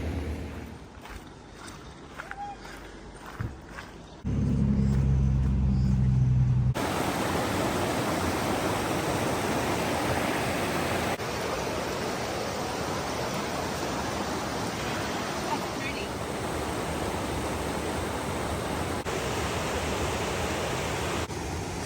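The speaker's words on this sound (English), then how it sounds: "creek that's by our campground, by our campsite. Creek and Dash Waterfall." A creek and waterfall beside a campsite rush in a steady, broadband roar of falling water, loud and continuous after a brief stretch of quieter ambience and a few handling knocks.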